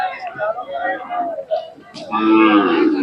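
A large Khillar cow at the Sangola cattle market lets out a loud, close moo in the final second, after someone talks over the market's background.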